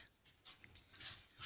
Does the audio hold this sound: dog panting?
yes